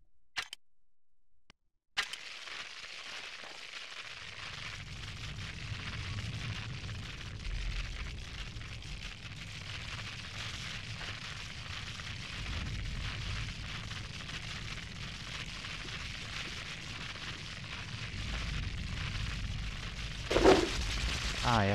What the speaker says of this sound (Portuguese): Cadê a bomba? Vou testar ela.